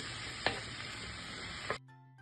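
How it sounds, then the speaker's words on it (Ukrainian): Sliced mushrooms and onion sizzle steadily in a pan as they are stirred, with two short utensil clanks before the frying sound cuts off abruptly near the end. "Далі додаємо нарізані гриби, помішуючи все разом смажимо до моменту, коли підсмажаться гриби."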